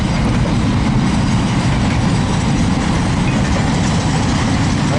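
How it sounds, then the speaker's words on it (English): A container freight train led by locomotive 8781 rolling past close by, a dense continuous rumble and rattle of wagons with steady clatter throughout, no talk. "8781's leading this train, which is very fitting"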